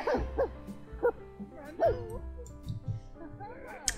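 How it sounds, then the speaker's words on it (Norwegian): A dog in The Sims 4 gives short yips and soft whimpers in a series of brief bursts, with faint game sounds around it and no speech. "Er det en hund her, eller?"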